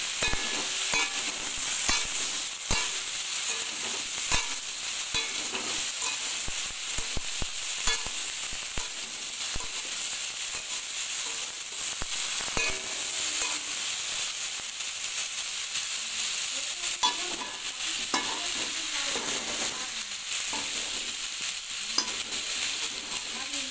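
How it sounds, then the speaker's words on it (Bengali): Sliced okra, pumpkin and potato for a vegetarian chorchori fry in a pan with a constant loud sizzle and hiss. Repeated scraping and clattering stirring strokes run through it, with no talking. "এবার একটু হালকা ভাজা হওয়ার জন্য একটুখানি পরে একটু নেড়ে চেড়ে ভাজা করে নিতে হবে।"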